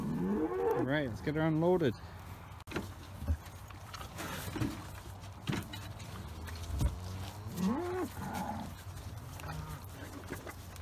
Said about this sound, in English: Cows are waiting their mineral.